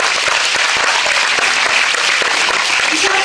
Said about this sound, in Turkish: bir alkış rica edelim